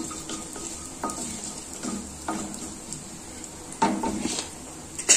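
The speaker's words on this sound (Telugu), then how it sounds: "ఇప్పుడు దీంట్లో జీలకర్ర ఆవాలు 2 వేసుకోవాలి. వేసుకొని ఒకసారి కలుపుకోవాలి." Cumin and mustard seeds sizzle in hot oil while a spoon stirs them, a close, steady frying hiss broken by several louder scraping strokes against the pan, with no talk.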